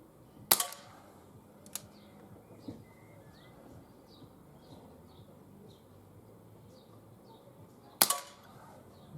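A Webley MK6 revolver fires freestanding at targets 10 yards away outdoors: two sharp, loud shots close together, a fainter pop, then a final crack after a long pause, with birds chirping softly in between.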